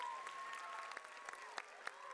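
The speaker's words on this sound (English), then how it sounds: "Let's give them a big round of applause." Applause from an audience at an elementary school fifth grade promotion ceremony, fairly quiet and distant, with a few sharper claps standing out over a steady soft patter and a faint tone.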